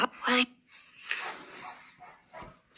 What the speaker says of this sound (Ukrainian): Собака гавкає.